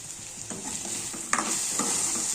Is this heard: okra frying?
yes